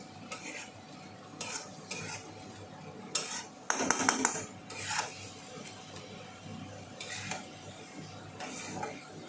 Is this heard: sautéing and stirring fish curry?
yes